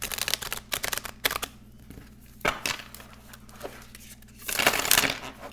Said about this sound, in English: Let's just see how it shuffles.